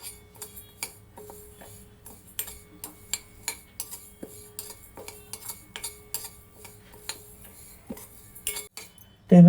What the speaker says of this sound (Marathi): मी उडदाची डाळ आधी भाजून घेते